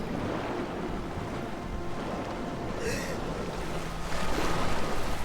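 Surf and washing water waves in Tomb Raider: Legend, a steady broadband wash with wind-like noise that swells louder near the end, with no talking.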